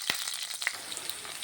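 Mustard seeds frying in a hot pan make a close, steady crackling sizzle with scattered sharp pops running through the whole short stretch.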